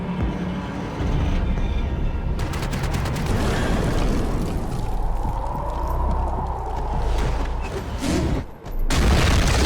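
Gunfire in the game Max Payne 3, rapid bursts of shots and booming impacts forming a loud, sustained barrage, briefly dropping out near the end before resuming.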